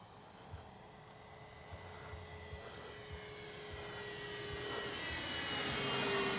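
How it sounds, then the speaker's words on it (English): A Kavan Bristell B23 radio-controlled model airplane droning overhead, a steady whining engine that slowly grows louder as it nears, with faint background noise. "Nice flying plane."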